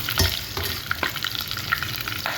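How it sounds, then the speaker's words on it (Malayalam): Fish frying in olive oil sizzles loudly and steadily, close up, with scraping stirs and small pops over a dense hiss. "മീൻ ഫ്രൈ ചെയ്യാൻ വേണ്ടി ഞാൻ ഒലീവ് ഓയിലാണ് ഞാൻ ഉപയോഗിക്കുന്നത് കേട്ടോ"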